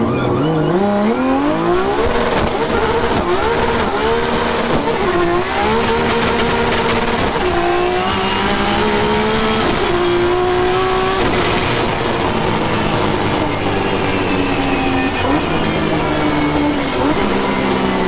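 A 1JZ-engined race car screams loudly up close, revving hard toward 10,000 RPM through repeated gear shifts as it accelerates, rising and dropping in pitch.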